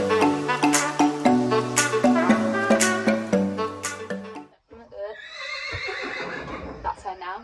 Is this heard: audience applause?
no